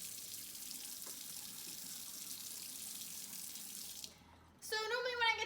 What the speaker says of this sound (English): gotta put the water in, so here we go